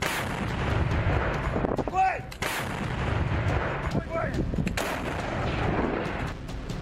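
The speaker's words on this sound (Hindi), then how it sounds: "यूक्रेन के सभी मोर्चों पर रूस की सेना गोली बरसा रही है।" Russian artillery and gunfire from the war in Ukraine, a continuous dense rumble of distant shelling with sharper reports standing out around the second and fourth seconds, steady and loud throughout.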